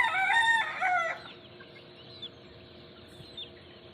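A rooster crows once, loud and close, a single drawn-out cock-a-doodle-doo lasting about a second, followed by quiet outdoor background with faint distant bird sounds.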